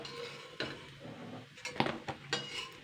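Fried cucumber fritters lifted out of a frying pan with a metal utensil, giving a few close clinks and scrapes of metal on metal against a soft sizzling background.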